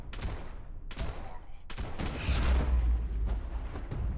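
Rapid bursts of gunfire and rocket launchers in Max Payne 3, loud and close, with heavy booming impacts rumbling underneath.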